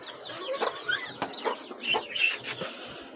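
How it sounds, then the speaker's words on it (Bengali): Chickens, including well-grown chicks, cluck and chirp in short, irregular bursts close by, with no speech. "এই যে দেখতে পাচ্ছেন যে এখানে আছে মুরগি বাচ্চাগুলো, মাশাআল্লাহ ভালোই বড় হয়েছে।"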